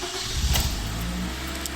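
A Toyota with its check engine, 4WD and slip warning lights on cranks and starts up, then settles into a steady, fairly loud idle close by.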